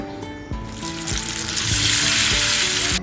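Hot tempering poured into alu ghati cooked with fish head, a loud sustained sizzle that swells and stays dense to the end, over a low rhythmic background music pulse.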